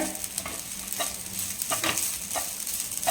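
Grated coconut roasting in a pan, half roasted and still slightly moist, sizzles softly while a spoon stirs it in repeated scraping strokes, quiet and close with no talk.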